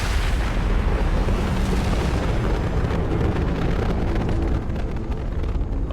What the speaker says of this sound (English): Oh god, they explode.